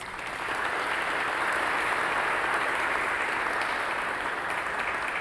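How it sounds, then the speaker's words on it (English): A crowd at a teaching-prize ceremony claps steadily for several seconds, dense and sustained applause that swells in at the start and stays even throughout. "can we give them a round of applause?"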